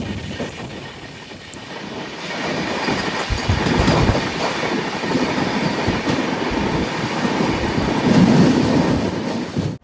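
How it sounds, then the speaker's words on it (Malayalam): A Vande Bharat train runs between Nagpur and Secunderabad in Telangana, its loud, continuous rumble and wheel clatter rising and swelling without any talk. "വന്ദേ ഭാരത് വരികയാണ്"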